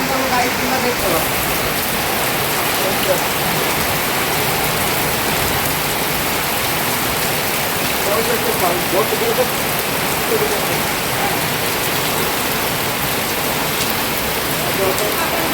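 Steady rain falls for the whole stretch, a dense, even hiss of drops on surfaces, with a voice talking faintly beneath it at times.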